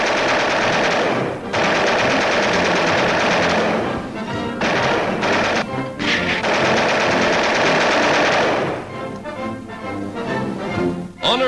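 Rapid bursts of machine gun fire from aerial gunnery training at moving targets, loud and sustained with brief pauses and clattering rattles, in a 1943 South Pacific wartime setting.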